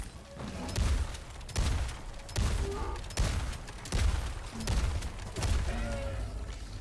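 Freedom's Flame gun in Helldivers 2 firing five heavy, booming shots in a steady rhythm, each blast loud and close with a rumbling low tail.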